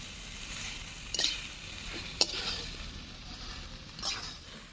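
Mustard greens, drumstick pieces and potatoes are sautéed in a pan: a soft, steady sizzle with a few sharp spatula scrapes and clinks against the metal, close by and without talk.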